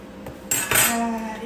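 Chicken being mixed with sauce and oil in a dish for kabsa: a few close, sharp clinks and scrapes of a utensil against the dish, with one ringing knock partway through and no talk.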